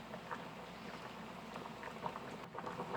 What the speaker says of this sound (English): We're just going to let that simmer for a little bit.